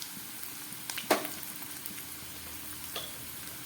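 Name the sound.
half-boiled potatoes frying with turmeric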